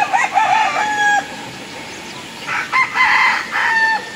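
White-legged gamefowl roosters crow on a gamefarm near Bacolod Silay, several long calls overlapping at mid distance with clucks between them, no talking.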